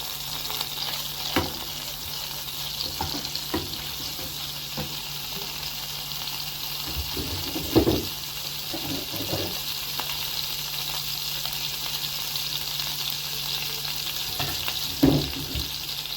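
Garlic sizzles in hot oil in a pan while a tomato sauce for koshari is made, giving a steady, close crackling hiss with a few louder pops and stirring knocks, and no talk.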